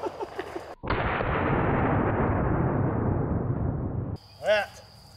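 A Taurus Raging Hunter .44 Magnum revolver with an 8-inch barrel fires one loud, close shot outdoors, a sharp blast followed by a long decaying roar, with brief talk before it and a voice right after.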